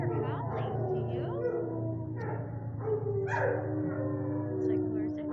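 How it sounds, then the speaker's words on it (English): Dogs in a shelter kennel howl together, with long wavering howls and occasional yips rising and overlapping over a steady mechanical hum, fairly close and loud. "I hear howling. Do you?"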